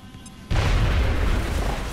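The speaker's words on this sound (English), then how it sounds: "Throwing grenade." A grenade blows open a wall in XCOM Long War: after a quiet moment, a sudden loud, deep boom erupts and rolls on as a heavy rumbling roar.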